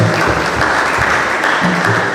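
An audience at a law and society conference claps continuously, a dense, loud, even patter of many hands filling the room for the whole moment.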